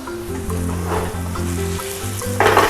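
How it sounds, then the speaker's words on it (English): Close sizzling and frying hiss of water in a hot pan, with a sharp burst of crackle near the end. "If you hear that sizzle noise, she means she's ready to go."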